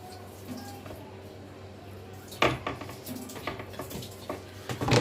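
Soft scrapes and light metallic taps from a greased baking pan as a shaped pizza base is set into it, close and quiet against a low room hum, with a sharper clatter midway.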